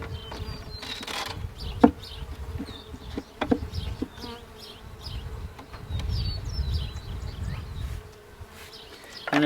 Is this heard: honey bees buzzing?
yes